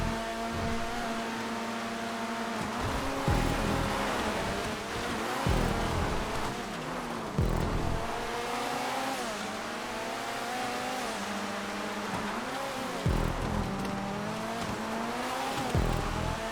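Omnis race cars lapping a custom GTA 5 track, engines droning and revving with repeated gear shifts and pitch sweeps, a pack of cars close behind, steady and loud throughout with no talk.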